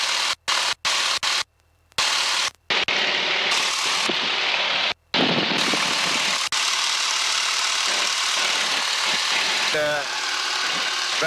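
An AT-6 trainer's nine-cylinder radial engine with a two-bladed Hamilton propeller drones loudly and steadily while the aircraft climbs out, heard from the cockpit under intermittent radio and intercom talk, with several short dropouts early on.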